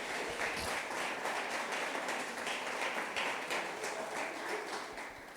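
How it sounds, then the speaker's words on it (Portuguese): A church congregation applauds in a dense, steady patter of many hands that fades slightly toward the end. "Pode dar uma salva de palmas para Jesus."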